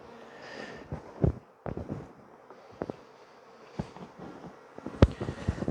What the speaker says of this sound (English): now there's a whack of bees in this box